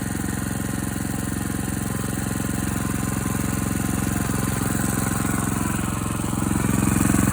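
Car engine idling steadily while warming up before a snowy night, a loud, even mechanical drone with a constant rumble throughout, rising slightly in the last second.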